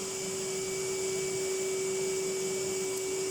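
A vacuum cleaner hoovering a Persian silk carpet runs in a steady, close whine with a strong constant motor tone and airy hiss, unbroken throughout.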